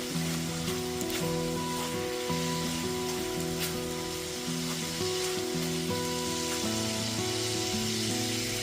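Pointed gourd and prawns fry in a pan with a steady, continuous sizzle that carries on throughout, under a layer of background music.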